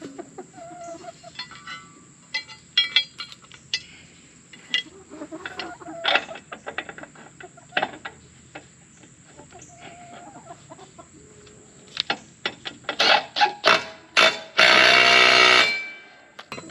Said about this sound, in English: Chickens are super curious about what's going on.